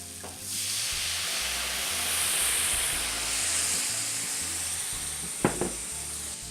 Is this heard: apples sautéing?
yes